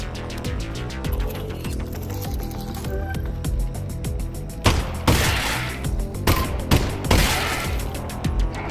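Gunfire aimed at antlions in Half-Life Alyx, a VR shooter: a few sharp, loud shots in the second half, set against a busy game backdrop of music and creature noise.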